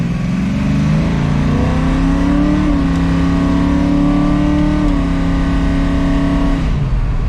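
A Dodge E55 Charger V8 with a Quick Fuel carburettor holds a steady, loud rev at quarter throttle around 4,000 RPM, droning evenly with slight pitch rises before dropping off at the end.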